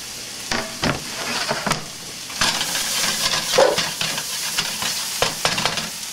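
Red and green bell peppers sear hard in a hot pan for chili, a steady loud sizzle and hiss broken by sharp scrapes and stirring knocks of the utensil against the pan, with no talking.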